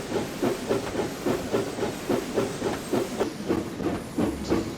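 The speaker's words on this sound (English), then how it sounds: "Wow, this place is crowded with steam engines." Steam engines hissing and chuffing at a steelworks in a video game, with rhythmic, evenly spaced puffs and a steady hiss, fairly close and without voices.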